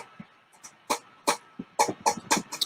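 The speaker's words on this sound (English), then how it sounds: "I have got a little bit of a cough at the moment" A man with a lingering cough, speaking in an outdoor talk about trees, coughs repeatedly in short, sharp bursts, several in a row with brief pauses, close and fairly loud.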